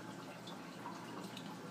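Water draining from a DIY acrylic aquarium sump with a refugium section, a steady low trickle and drip that runs quietly and continuously throughout, fairly faint and close by, with no talking.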